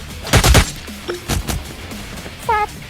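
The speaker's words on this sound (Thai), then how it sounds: "เฮ้ยใครยิงอ่ะ" Gunfire in the shooter game Cyber Hunter: a rapid loud burst of shots up front, then a few more separated single shots and short bursts, close and punchy, mixed with electronic game effect tones.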